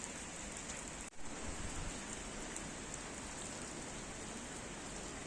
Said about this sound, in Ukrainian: Дощ не вщухає.